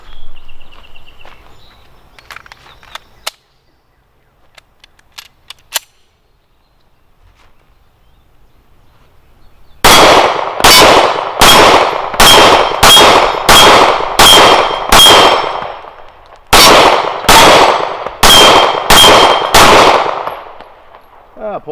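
An FN Browning Hi-Power 9mm pistol fires about fourteen loud, sharp shots in two quick strings on an outdoor range, each followed by the ringing clang of steel plates at 12 yards, after a quiet stretch with faint clicks.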